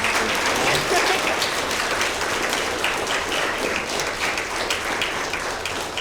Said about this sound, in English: How about a big round of applause for this group?